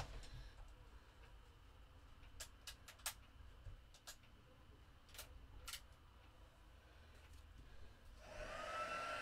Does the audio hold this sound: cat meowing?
no